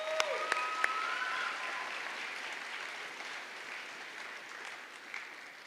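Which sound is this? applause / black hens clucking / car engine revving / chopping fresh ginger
applause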